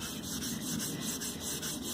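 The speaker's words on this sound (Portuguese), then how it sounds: "passando uma buchinha abrasiva no caso, né, para tirar um pouco do excesso da cera para depois lustrar" Abrasive pad rubbed lightly over waxed wood to lift excess wax before polishing, a steady close scrubbing rasp that runs continuously with a faint rhythmic back-and-forth pulse.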